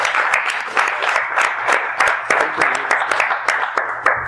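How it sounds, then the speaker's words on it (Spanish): Audience applause welcoming a speaker at an academic ethnomusicology lecture, with dense clapping filling the room and sharp individual claps standing out throughout, loud and sustained without talk. "Vamos a recibir con un fuerte aplauso"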